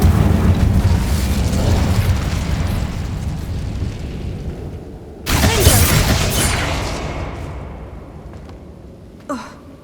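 An Incendio fire spell goes off in the Hogwarts Legacy video game as a loud roaring burst of flame. A second sharp blast follows partway through, then the roar fades into a rumbling tail.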